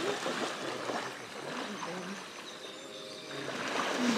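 Waterfall on Réunion island, a steady broadband rush of falling water that swells slightly toward the end, with faint voices mixed in.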